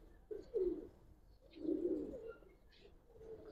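Pigeons cooing in a loft, low throaty coos repeating close by in soft, rolling phrases with faint chirps in between.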